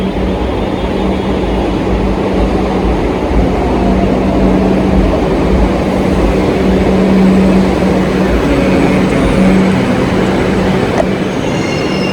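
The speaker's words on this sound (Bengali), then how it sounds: "আমাদের মেট্রো চলে এসেছে ওই যে ঢুকছে মেট্রো" Kolkata metro train pulling into Joka station, a loud continuous rumble of rolling wheels and motors with squealing tones as it arrives, close by and sustained throughout.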